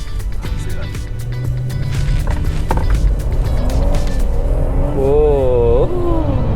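A Hyundai car drifts on a slick test track in Korea without the e-brake, giving a steady, loud roar of engine and tire noise that runs throughout, with a voice talking over it near the end.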